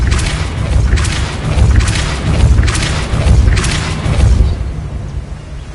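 Depulso force spell cast repeatedly in Hogwarts Legacy, several loud, deep booming thumps with bright whooshing bursts roughly every second, set against a constant low rumble of game sound.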